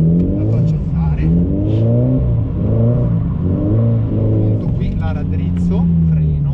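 A Toyota GT86 drifting on a track, its engine revving up and down in repeated rising and falling sweeps, loud and close, with someone talking over it throughout.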